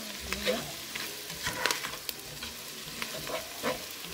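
Smoked pork ham shank meat and soup ingredients being tossed and stirred in a pot, with a soft sizzle and scattered scraping clinks at moderate volume, no talking.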